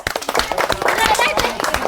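An audience claps at a steel-ball game contest, with a dense patter of hand claps running steadily for about two seconds while voices carry on underneath.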